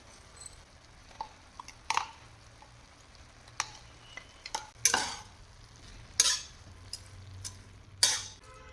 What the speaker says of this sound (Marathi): मसाला छान मिक्स करून घ्यायचा भाजीत